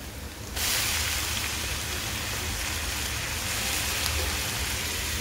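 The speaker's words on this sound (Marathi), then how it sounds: "हे आता चांगलं भाजून घेणार आहे. हे बघा, कांदा थोडासा गोल्डनिश ब्राऊन कलरचा होऊन द्यायचा आहे" Chopped onion fries in a pan until golden brown, a dense, steady crackling sizzle that starts abruptly after half a second and continues evenly at close range.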